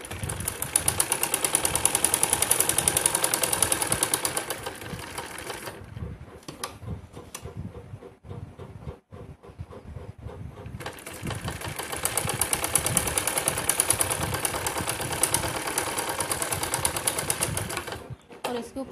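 An electric sewing machine stitches blouse fabric in a fast continuous whirring run, pauses for several seconds with faint handling sounds, then resumes steady stitching before stopping near the end.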